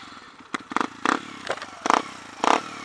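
Sinnis Apache 125cc motorcycle fitted with a louder aftermarket exhaust, giving a series of sharp revving bursts, about five in quick succession, close by with wind noise and rumble between them.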